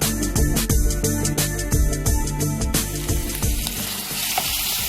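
Ginger garlic paste fries loudly in a hot pan with oil, giving a steady dense sizzle broken by repeated sharp clicks and knocks from stirring, with no voices.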